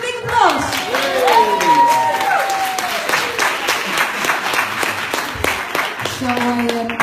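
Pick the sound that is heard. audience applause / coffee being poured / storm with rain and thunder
audience applause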